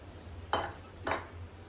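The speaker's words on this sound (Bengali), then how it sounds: "ডাল বাড়া হচ্ছে এখন" Two quick, sharp clinks of dishes and a serving utensil sound as lentil dal is served at lunch in an old-age home dining setting, close and brief over quiet background.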